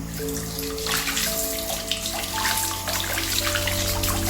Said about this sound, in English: allow that lovely water to drain onto the foot.